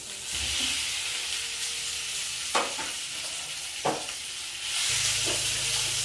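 Onions dropped into a hot pan sizzle with a steady, close hiss, broken by a couple of sharp stirring scrapes and knocks.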